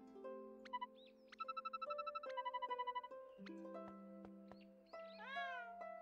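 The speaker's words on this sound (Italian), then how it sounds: "Ah, è un gatto, mi sembravano due cani." Cat meows from the Inazuma Eleven GO Galaxy video game, several short cries over a steady game soundtrack with chimes and tonal effects, fairly close and clear, with no talking.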